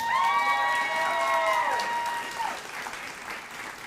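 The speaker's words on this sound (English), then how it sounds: "Let's give him a round of applause for that." A graduation ceremony crowd claps steadily, with a harmonic tone fading out during the applause, then the clapping thins toward the end.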